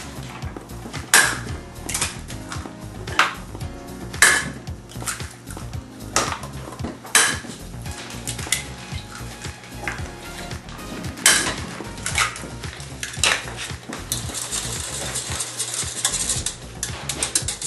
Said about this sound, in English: Now I will crack some eggs and then whisk them.